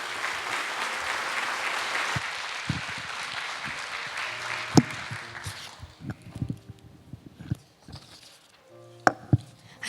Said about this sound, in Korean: 우리 김현영 우리 청년 우리 나올 때 박수로 맞이하실까요?